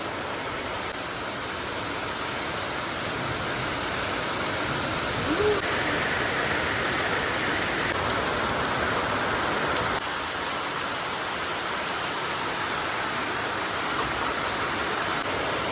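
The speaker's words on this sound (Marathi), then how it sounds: "आणि मस्त आता पाऊस पडला" Heavy monsoon rain pours steadily across the Konkan countryside, a dense, continuous hiss of drops on surfaces with no pauses, close and enveloping, with a faint tonal hum running through part of it.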